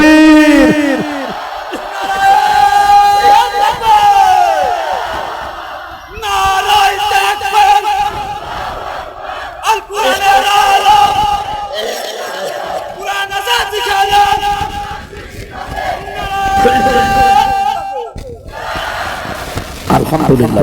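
A large crowd at an Islamic sermon gathering bellows takbir in unison, several loud massed shouts rising and falling in waves with brief pauses between them.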